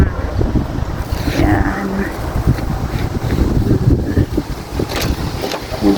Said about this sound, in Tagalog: Ang hangin na dito guys.